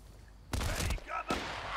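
Gunfire in the Battlefield: Bad Company shooter, two loud broadband bursts of shots close by, the first longer and the second shorter, with faint background noise between them.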